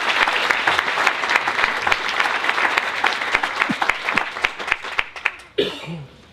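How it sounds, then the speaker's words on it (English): An event audience gives sustained applause that thins into scattered individual claps, then fades out as someone coughs near the end. "let's give Sara a round of applause as well."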